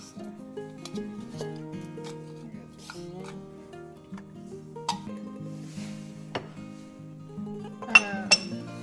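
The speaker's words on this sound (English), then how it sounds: "I'll just get a teaspoon out." A metal teaspoon clinks against a container while baking powder is measured for homemade flour tortillas: scattered light taps, with a few sharper clinks near the end, over steady background music.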